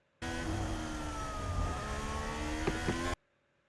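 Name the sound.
five racing cars going through turn 14 at Abu Dhabi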